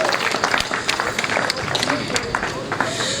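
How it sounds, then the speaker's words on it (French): An audience applauds at a ceremony for a water project in Bafou, with uneven clapping, some sharp individual claps standing out, and a few voices and crowd noise mixed in the background. "je vous demande d'applaudir avec moi très fortement"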